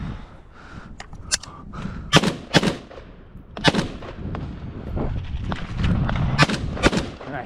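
MK18 rifle fired at an outdoor range, a series of sharp irregular gunshots with echoing tails over ambient noise, close and loud.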